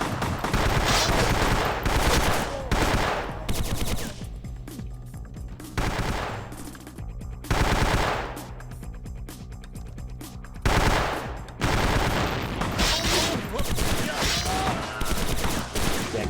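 Enemy gunfire in Vampire the Masquerade Bloodlines: loud bursts of rapid automatic shots in repeated volleys with short gaps between them, close and dense, with a voice talking faintly under parts of the shooting.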